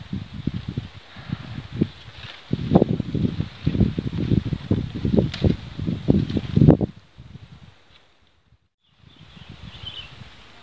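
Wind gusts across a river mouth in a mangrove estuary while people fish from a boat, a rough, buffeting rush that rises and falls close to the microphone, then drops away almost to silence near the end.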